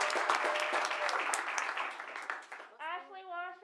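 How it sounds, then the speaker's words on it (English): Applause for an individual at a school district ceremony, a dense burst of clapping that thins out before a voice begins speaking. "let's do individual applause"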